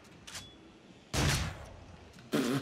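Two loud, close shotgun blasts in the horror shooter Until Dawn: Rush of Blood, each a sharp broadband burst with a short decay, about a second apart, preceded by a fainter shot.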